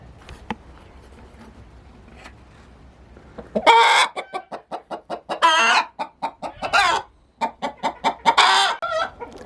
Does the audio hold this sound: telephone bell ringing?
no